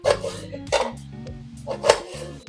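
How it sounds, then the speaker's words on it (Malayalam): Knife chopping mango into small pieces for a dates and mango pickle, a few sharp board strikes in an uneven rhythm, close and crisp, with a low hum underneath and no voices. "ഇതാണ് നമ്മൾ ചെറിയ പീസായിട്ടാണ് നമ്മൾ അരിയുന്നത്"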